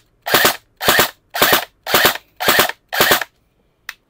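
Krytac Kriss Vector airsoft gun firing in quick sharp pops: six evenly spaced shots in pairs close together, loud and near, followed by a faint seventh click at the end.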